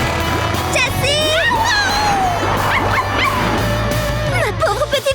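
A cartoon dog in a French-dubbed episode of Blaze and the Monster Machines yips and whimpers repeatedly, with rising and falling high whines and short barks heard up close over a steady musical backing.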